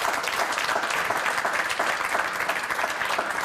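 A television studio audience at a Serbian entertainment show breaks into loud, continuous applause, a dense wash of clapping that holds steady for several seconds without letting up.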